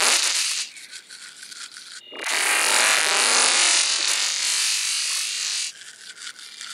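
Teeth are brushed vigorously with an outdoor toothbrush during a forest camp, a close, loud bristly scrubbing that comes in long sustained bursts with brief softer pauses.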